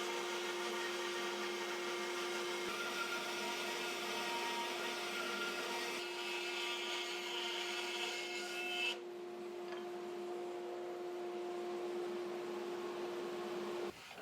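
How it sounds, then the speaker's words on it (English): A bandsaw slicing slowly through a block of wood for coasters, a steady, loud whining hum that shifts partway through as the cut ends and the machine runs on alone before a final clunk. "And there's the second one cut on the bandsaw."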